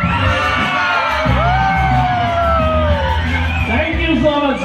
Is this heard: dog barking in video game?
no